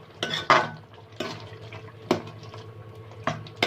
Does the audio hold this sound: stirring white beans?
yes